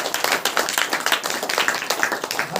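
A congregation at a Saturday Christian power meeting claps hands together in a fast, steady rhythm, loud and close, with faint voices underneath.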